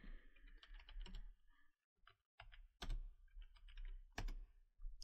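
Someone types on a computer keyboard in quick, close clicking bursts, separated by a short pause, and the key taps are fairly faint overall.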